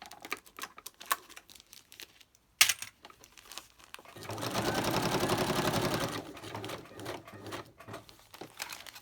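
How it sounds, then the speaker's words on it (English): A domestic sewing machine runs a straight stitch through plastic in one steady, close whirring burst of about two seconds, framed by fainter clicks, taps and crinkling handling sounds before and after. "the sewing machine does not mind sewing the plastic at all"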